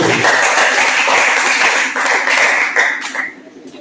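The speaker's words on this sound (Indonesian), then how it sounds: "Tepuk tangan untuk kelompok 1." Loud, dense clapping in a classroom for a student group after a presentation, continuous for about three seconds and then tapering off abruptly near the end.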